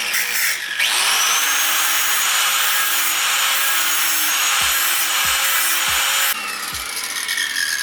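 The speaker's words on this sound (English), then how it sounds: "So, we're gonna try grinding some of this." A power grinder cuts into car parts on a K20 Civic, spinning up to a loud sustained high whine with several brief dips as the disc bites the metal, then winding down near the end.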